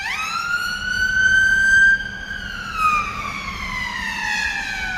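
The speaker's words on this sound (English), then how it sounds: "Let's let the ambulance go past." A loud ambulance siren wails as it goes by, its pitch rising, holding, then sliding lower as it moves away, with faint traffic rumble beneath.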